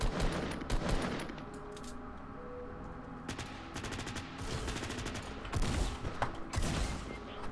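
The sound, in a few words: shotgun fire in Fortnite video game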